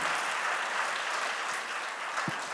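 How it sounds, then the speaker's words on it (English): A seated audience applauds a panel of men after a discussion about prostate cancer, a steady wash of many hands clapping at even loudness for a few seconds. "Please give him another round of applause."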